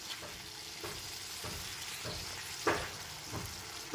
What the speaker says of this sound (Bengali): চিনিটা দিয়ে খুব ভালো মতো একবার মিশিয়ে নিচ্ছি।